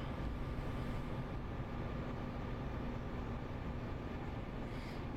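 A London Overground train from Stratford picks up speed in the Train Sim World game, heard as a faint, steady rolling rumble with a low drone throughout and no talk.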